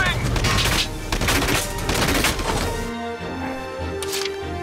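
Rapid bursts of gunfire from Valkyria Chronicles 4 crack in repeated loud volleys, close and dense for about three seconds, then give way to quieter mechanical tones and a last sharp shot.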